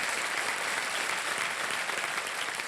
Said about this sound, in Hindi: मैं चाहता हूं कि जोरदार तालियां बज जाए